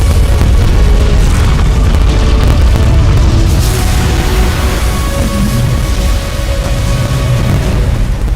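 The Dire Ancient is destroyed in Dota 2, setting off a loud, sustained rumbling explosion with booming bursts that fill the whole stretch and ease slightly toward the end.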